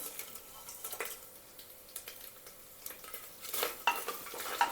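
Dried red chilli, bay leaf and whole spices crackle in hot oil in a pan, with quiet sizzling, stirring scrapes and light utensil clinks that grow busier toward the end.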